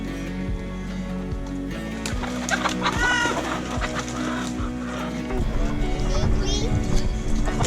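Chickens cluck and squawk in a busy coop, a rooster among them, overlapping calls near and far over a constant low mechanical drone, with occasional louder bursts.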